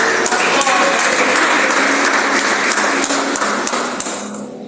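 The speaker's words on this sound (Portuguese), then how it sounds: "Salva de palmas." Church congregation applauding loudly, a dense sustained burst of clapping that fills the room and tapers off at the end, close and with no talk over it.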